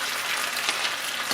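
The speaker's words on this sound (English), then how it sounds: "Look at those potatoes frying." Potatoes frying in a pan give off a steady, even hiss of sizzling oil, close and moderately loud, with no talking over it.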